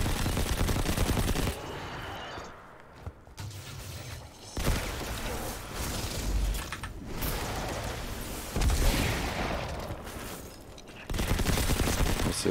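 Submachine gun fire in Destiny 2 rattles in dense bursts, rapid loud volleys broken by short gaps, with no voices over it.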